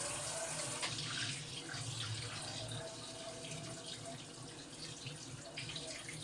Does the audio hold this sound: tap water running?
yes